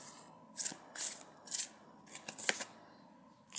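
A tarot deck is shuffled in a series of quick riffling bursts, about six short crisp rustles spaced apart, close and fairly quiet.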